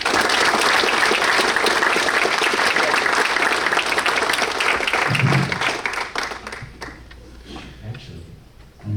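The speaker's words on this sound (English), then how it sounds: "Give yourselves a round of applause." Loud, sustained applause from a banquet crowd at a boys lacrosse awards banquet, dense clapping for about six seconds before thinning out and fading, with scattered voices underneath.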